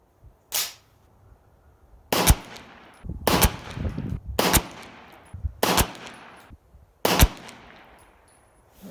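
A 9mm FM9 pistol fires American Eagle 147 grain FMJ rounds: five sharp, loud shots spaced about a second apart, each followed by a short echoing decay, with no talk.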